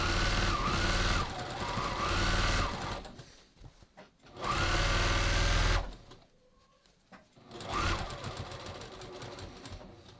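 A sewing machine stitches along a denim jeans seam being turned into a skirt, running in three loud, steady bursts of rapid whirring with short pauses between them.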